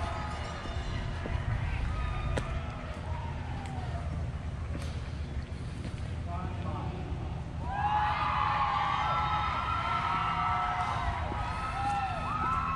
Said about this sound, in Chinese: 在这里能听到很多欢呼的声音